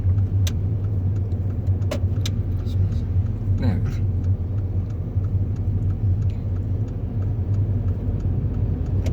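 A car moves through city traffic during a driving lesson, with a steady low engine and road rumble running continuously from inside the cabin and a few faint clicks and rattles on top.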